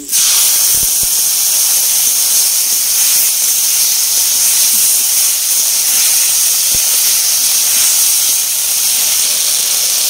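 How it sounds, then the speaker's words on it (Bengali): Water poured onto spices frying in a hot pan sets off a loud, steady steam hiss that starts abruptly and holds for about ten seconds, close and unbroken. "এবার একটু মশলাতে একটু জল দেব।"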